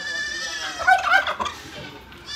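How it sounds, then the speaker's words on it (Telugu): A turkey hen gobbles loudly and close by in one rapid, warbling burst, with livestock such as goats kept nearby. "ఇది వచ్చేసి మనకు టర్కీ మురిగి, టర్కీ కోడి."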